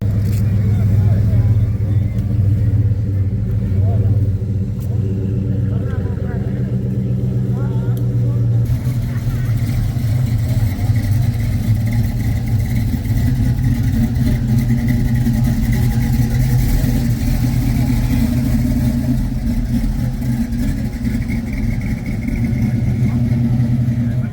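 A Dodge Diplomat idles steadily at an outdoor car and motorcycle show, its low engine rumble close and continuous, with crowd noise and voices around it.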